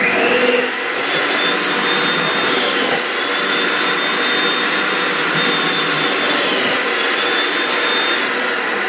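A food processor with a 4G mixie attachment cutting potatoes into French fries at fast speed, a loud, steady motor whir with a high whine, running continuously and alone.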